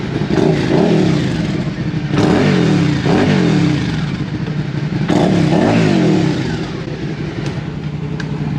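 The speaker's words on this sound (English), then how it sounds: "I like this little exhaust." A motorcycle's exhaust, on a warmed-up Honda Grom, revs up and settles back several times, loud and close, with a throaty idle between the revs.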